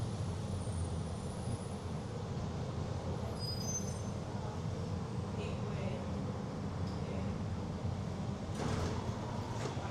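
Miami's Metromover train runs through Brickell at night, a steady, loud mechanical rumble and hiss that holds throughout, with a few brief higher clanks and squeaks.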